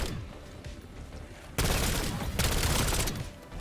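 Gunfire in Black Ops 7 Zombies, with a quieter stretch of game noise, then a sudden burst of loud, dense rapid shooting that continues to the end, with a brief dip and renewed fire.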